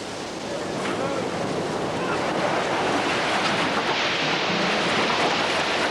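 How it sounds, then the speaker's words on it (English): Ocean surf washes continuously onto a shore where a rowing boat is being launched, with wind buffeting the microphone. The steady, broad roar of the breaking waves carries loud and close throughout. "Wait for the waves."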